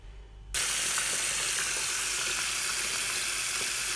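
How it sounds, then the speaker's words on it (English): Apples are washed under a running kitchen tap without soap: a strong, steady rush of water switches on abruptly and continues, close and loud, with no voices. "So now I'm washing my apples, but without soap"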